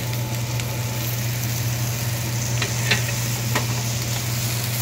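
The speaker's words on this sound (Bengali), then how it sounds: "এবার এর মধ্যে দিয়ে দিচ্ছি ভেজে রাখা ক্যাপসিকাম আর পেঁয়াজ" Fried capsicum and onion are stirred with spices in a hot pan, giving a steady, close sizzle with occasional scraping strokes and a constant low hum beneath.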